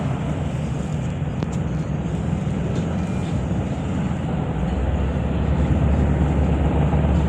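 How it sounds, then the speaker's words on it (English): Apache attack helicopters fly over a military live-fire exercise range near Thessaloniki, Greece, producing a loud, steady, broadband engine-and-rotor roar with no talking. "we see two pairs of Apache helicopters entering the fire range on your left and right"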